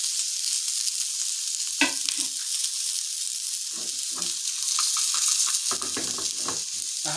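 Pork fries in a pan with a steady bright sizzle throughout, broken by occasional stirring scrapes and clatters that grow busier toward the end.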